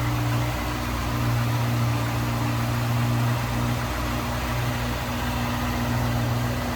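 A 1973 Ford Mustang convertible engine idles smoothly and steadily nearby, a constant low hum with a firm tonal drone and no voices over it.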